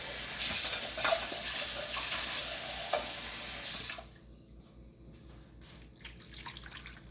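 Tap water runs into a meatloaf pan in a home kitchen, a close steady hiss for about four seconds before cutting off, leaving faint clatter and handling noise.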